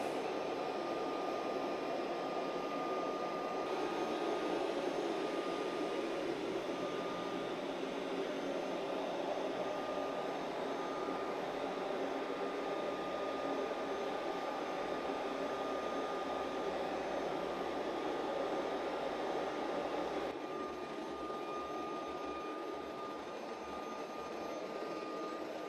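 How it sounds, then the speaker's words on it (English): A HOBOT Legee D8 robot vacuum cleaner runs with a steady, moderate whirring hum that holds at an even level throughout, close by and with no one speaking. "The actual volume of the D8 whilst it's vacuuming is not too bad at all."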